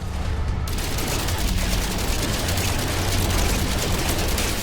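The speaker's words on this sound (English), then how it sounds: "That's good shooting though, that is very good shooting." Rapid gunfire from a No Man's Sky player shooting at Sentinel combat units, a dense continuous barrage of game weapon shots running loud and unbroken for the whole stretch, with no talk over it.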